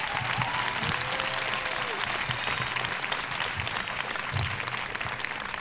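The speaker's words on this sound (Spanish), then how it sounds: "Un aplauso para Janet" An audience at a feminism talk gives steady, sustained applause for a guest speaker. The clapping is dense and fairly distant, with a few faint voices underneath.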